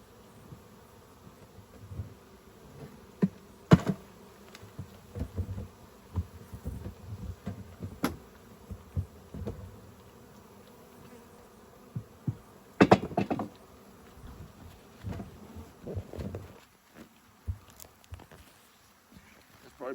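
A honeybee swarm in a tree hums faintly at a low level, broken by scattered knocks and handling noises, with a voice heard at times.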